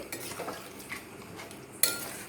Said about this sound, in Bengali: নাড়িয়ে দেব।